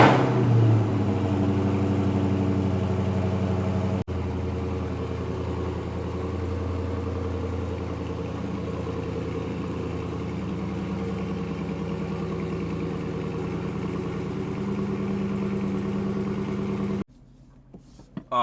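Dodge Charger Widebody Scat Pack engine heard from inside while driving, a steady low drone and hum that holds for most of the stretch before dropping away near the end.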